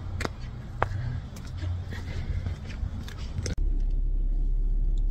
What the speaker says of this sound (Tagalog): Papainit na lang na sasakyan.